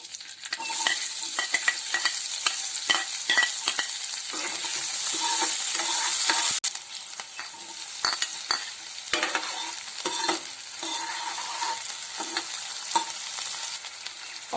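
Finely chopped potato and onion fry in a pan with a close, steady sizzle, broken by frequent scraping and stirring clatter, no voices.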